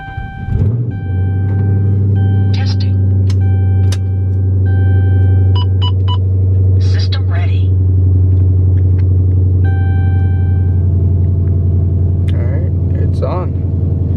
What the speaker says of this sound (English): we're gonna start the car, we're gonna let the car warm up